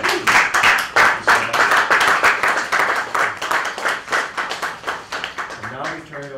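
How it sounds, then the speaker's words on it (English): A small group applauds at a mayor's bill signing, a round of close, rhythmic clapping that settles into a steady beat and fades, with a voice speaking at the end. "Let's give another round of applause."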